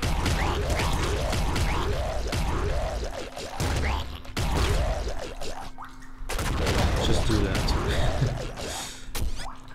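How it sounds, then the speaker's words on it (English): Super bazooka fire in the Nuclear Throne video game: dense bursts of rocket blasts and explosions in rapid clusters, loud and continuous across the clip with brief gaps, with someone talking over the action. "an emergency use of the super bazooka right there"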